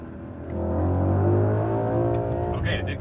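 A 2021 Mercedes-AMG GLE 63 S in manual mode revs toward its redline, the engine note swelling loud and rising in pitch before easing off, heard from inside the cabin.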